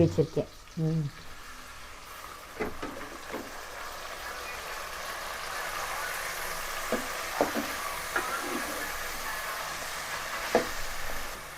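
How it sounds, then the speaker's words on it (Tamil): Onions and tomatoes sautéing in a pan for a spicy Madurai-style chicken kulambu: a soft, steady sizzle throughout, with occasional stirring knocks and a brief voice at the start. "இந்த வெங்காயம் தக்காளி சரி நல்லா வதங்கணும்"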